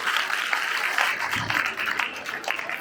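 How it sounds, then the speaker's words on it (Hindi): A crowd at a film event gives a brief round of applause, moderately loud and uneven, with a few louder claps standing out from the patter. "एक बार जोरदार तालियां हो जाए भाई"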